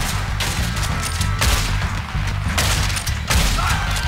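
Rapid gunfire in Red Dead Redemption 2 rings out in loud bursts of shots over a low, steady game background score, with no one talking.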